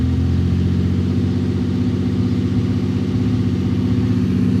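A car engine with an idle fault runs at a high, steady rev, producing a constant loud droning hum without breaks and no voices over it.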